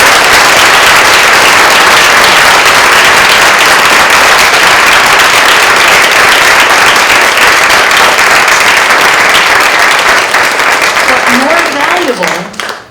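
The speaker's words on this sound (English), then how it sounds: "can we please give our panelists a round of applause for that?" Audience at a film screening and panel discussion applauding the panelists, a loud, sustained, dense wash of clapping from a crowd that fades out at the end as a voice begins.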